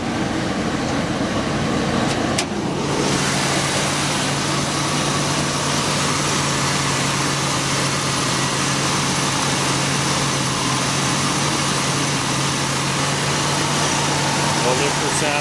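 A 1966 Ford Mustang engine idles in a steady, loud, continuous drone with a constant low hum, preceded by a brief louder click or shift near the start.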